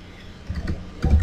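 Keys on a computer keyboard tapped while writing C++ code, a few close clicks in two short clusters, the second louder, with no talking.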